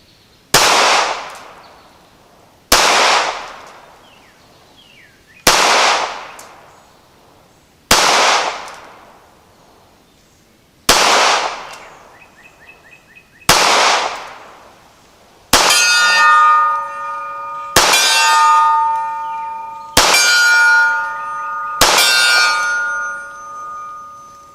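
Ruger Security9 pistol fired at a target 35 yards away: nine evenly spaced loud, sharp shots, each with a decaying tail, the last four followed by bright metallic ringing.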